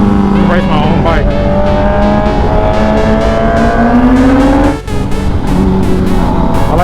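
A Kawasaki ZX10R sport motorcycle engine revs and runs hard among other sport bikes at a meetup. It is loud and close, its pitch climbing steadily through the gears, with a brief drop near the end.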